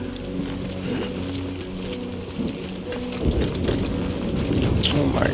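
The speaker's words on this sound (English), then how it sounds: "It's clear skies, but it's raining, by the way." Rain falls steadily in the video game Death Stranding 2, a constant dense patter with low rumbling underneath that grows slightly heavier toward the end, and a voice talks over it.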